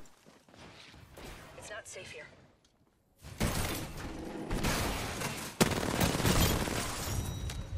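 Bursts of gunfire from the video game Apex Legends crackle and rattle in clusters, with a sharp loud shot near the end, while players talk over the action.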